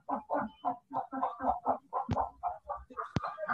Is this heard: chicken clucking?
yes